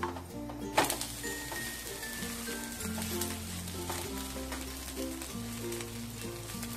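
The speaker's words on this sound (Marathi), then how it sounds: "मध्यम करायचा थोडा गॅस आणि व्यवस्थित भाजू द्यायचं" Rice ghavan crepe roasting in a pan over a medium gas flame gives a soft, steady sizzle throughout, low in level, with faint background music and no speech.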